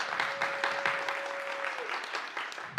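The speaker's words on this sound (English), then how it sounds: "Let's give him a round of applause" Steady applause from a conference audience honoring a county election commission worker, dense continuous clapping throughout with a faint sustained tone briefly under it; no voices stand out.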